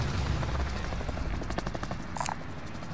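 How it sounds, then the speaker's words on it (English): Helicopter in the video game Call of Duty Warzone Rebirth, a rapid rhythmic rotor chop filling the mix over about two seconds, fairly loud, with a short sharp game effect near the end and no talk. "There's the helicopter."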